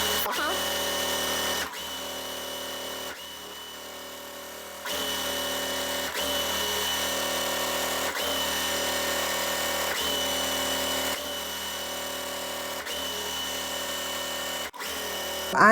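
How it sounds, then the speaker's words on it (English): A sewing machine stitches quilt seams in long steady runs of fast, even whirring, paused briefly between stretches and heard up close without talk. "Now we are going to sew."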